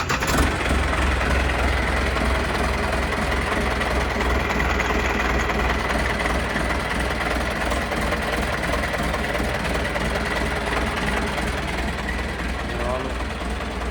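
A Sonalika Max 3055 DI tractor engine, side-gear model at a tractor market in Patiala, starts and runs with a steady low diesel rumble and idle throughout, close and continuous, with voices talking over it.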